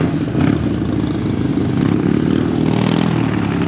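Motorcycles roll past on a road in Germany, a loud, close engine drone with rough mechanical rattle that swells and holds steady for several seconds.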